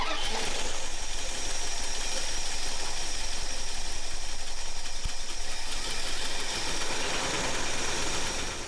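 The engine of a 1978 Dodge D150 pickup runs roughly at a steady idle, with an uneven, buzzy mechanical drone and persistent ticking close up. It holds continuously for several seconds and there is no talking.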